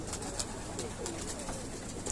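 Pigeons coo softly in a steady murmur, with a few brief flutters or clicks scattered through, heard at a moderate distance against a noisy background.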